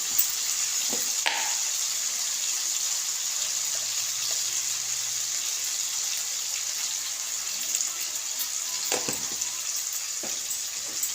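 Food frying in a pan gives a continuous, fairly loud sizzle with occasional utensil clatters against the pan, heard up close without speech.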